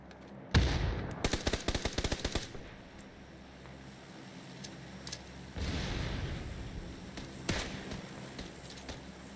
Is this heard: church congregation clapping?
no